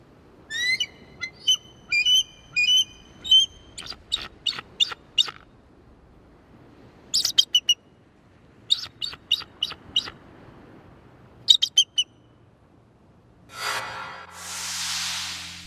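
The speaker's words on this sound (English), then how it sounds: "This is what the bald eagle unfortunately sounds like." A bald eagle call: a series of high, thin, rapid chittering calls in bursts, followed by a harsher, noisy screech near the end; clear and close with no talking.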